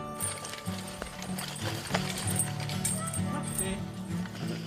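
A mare hoeing between vineyard rows in Ardèche, with faint hoof thuds and rustling of soil and harness beneath someone speaking French throughout.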